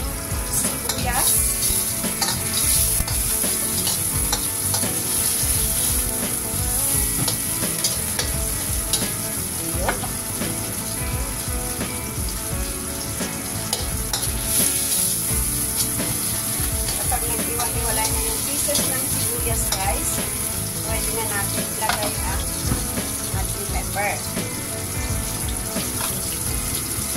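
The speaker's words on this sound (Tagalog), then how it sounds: "Using the same pan, gigisa po natin ang ating broccoli." Broccoli and onion sautéing in a pan, with a steady dense sizzle and stirring noises running throughout, close and fairly loud, and no talk over it.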